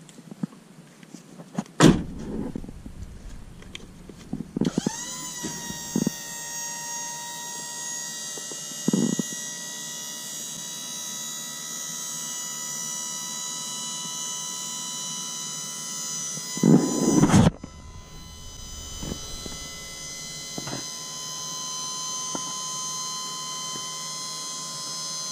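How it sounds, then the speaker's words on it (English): Hydraulic scissor hoist on a brush chipper truck runs with a steady whining hum for about twelve seconds. Then a thump and a short pause, and the hum starts again, close and continuous with occasional clunks. "See, it's a scissor hoist."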